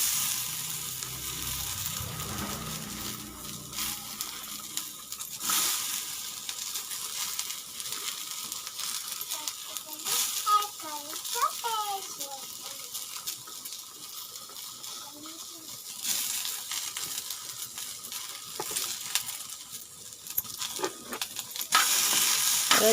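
Ivy gourds fry in hot oil for a peanut chutney, with a continuous crackling sizzle and recurring scrapes and clatters as they are stirred in the pan, rising and falling over the stretch.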